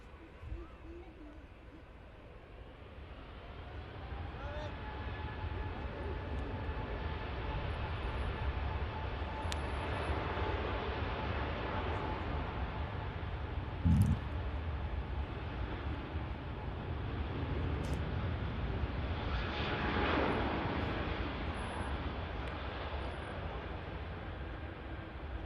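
At Manchester Airport, an airplane takes off down the runway as a broad, steady engine roar that swells to a peak near the end. Wind and faint background noise run throughout.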